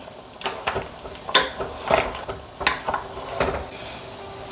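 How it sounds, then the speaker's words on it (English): A soup pot holding dried fish and stock cubes stirred with a spoon for Nigerian banga soup, several scraping, clattering strokes in an uneven rhythm, close and moderately loud, with no talk. "I'll just give this a quick mix."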